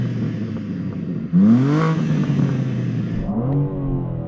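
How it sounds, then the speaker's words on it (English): BMW M4 Competition with a petrol particulate filter revved while stationary, the engine idling steadily before a loud rev that rises and falls back, followed by a second smaller blip. "Now I'm revving it in car,"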